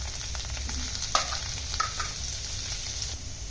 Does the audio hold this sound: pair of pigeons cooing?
no